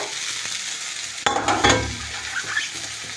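Chopped spring onion greens dropped into a hot tempering with turmeric in a pan, the steady sizzle suddenly flaring louder with scraping and clatter of a spoon stirring, close by and without talk.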